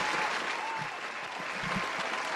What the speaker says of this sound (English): I'm hitting a round of applause in case Webb is home